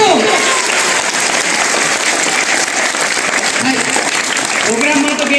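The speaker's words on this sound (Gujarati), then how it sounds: "જોરદાર તાળીઓ." Loud, dense audience applause at a science-awareness program fills the hall in a continuous roar of clapping close to the listener, while voices rise faintly beneath it.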